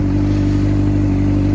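Honda CBR600RR motorcycle engine running at a steady, even idle, close and loud with a constant low throb and no pauses.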